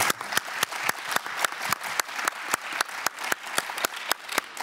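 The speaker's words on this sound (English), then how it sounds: "may I ask you all to give a round of applause to our panelists" Conference audience at a rural development parallel session applauding the panelists, a steady run of individual claps spread across the room at moderate loudness, with no talk over it.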